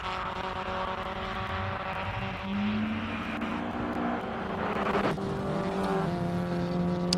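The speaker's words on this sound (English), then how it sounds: "Datsun GX Coupe out on track as well" A Datsun GX Coupe with a 1400 four-cylinder engine races up the Simola hill climb, its engine note loud and close, climbing through the revs and surging harder toward the end.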